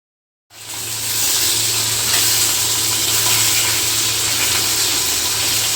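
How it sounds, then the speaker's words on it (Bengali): Koi fish dropped into smoking-hot oil set off a sudden loud sizzle after a brief silence, settling into a dense, even hiss that carries on close by without any talking. "এবার এক এক করে সমস্ত কই মাছ আমরা ভেজে নেব।"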